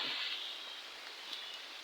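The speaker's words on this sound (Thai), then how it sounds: "ฝนตก" Soft, steady hiss of rain falling, fairly quiet and even throughout, with a few faint drops ticking over the wash.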